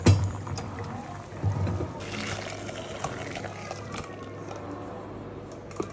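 Boiled bitter gourd is poured out of a pot to drain, producing a splashing rush of water that settles into a steady trickle, with a faint clatter of the vessel.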